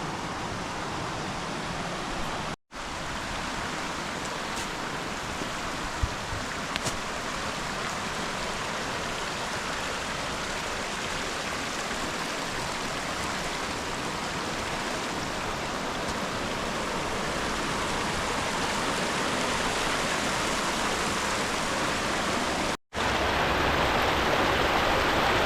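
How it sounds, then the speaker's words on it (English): Zapata Falls, a small waterfall in Great Sand Dunes National Park, pours in a steady, loud broadband roar of falling water that stays constant throughout, interrupted only by two brief dropouts. "So that was Zapata Falls."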